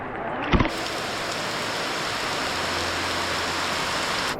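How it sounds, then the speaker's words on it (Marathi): Heavy rain pours down on an unpaved trail leading to the Siddheshwar waterfall near Alibag, a steady, dense hiss that holds throughout after a brief knock near the start. "अचानक सुरू झालेल्या पावसाकारण जागोजागी पाणी वाहण्यास सुरुवात झाली."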